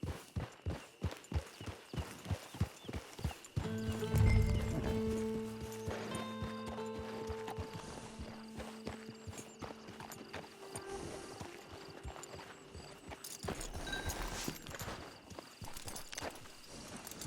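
Horse hooves clip-clop steadily in Red Dead Online, a clear rhythmic trot at first, then a neigh and continued hoofbeats under game music and ambient sound, with a brief whinny later.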